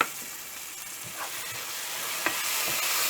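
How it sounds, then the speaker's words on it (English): A quiet, steady sizzle of beef vindaloo frying in a pot, a soft hiss with a few faint pops and a slightly louder crackle near the middle, no voices. "Continue frying for another 2 minutes."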